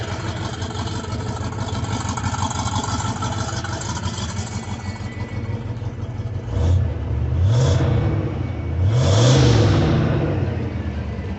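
A Ford engine, newly fitted with replacement lifters, idles steadily, then revs up in two or three rising swells before settling back, loud and close.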